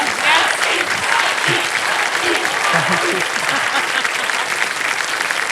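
Loud, sustained applause from a studio audience at a televised quiz show, steady clapping filling the whole stretch without a break.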